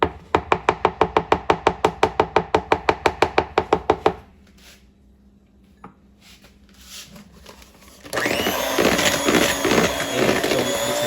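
Lemon cake batter being mixed from scratch with an electric hand mixer, loud rhythmic whirring bursts at first, then a quiet pause and a steady continuous mixing drone.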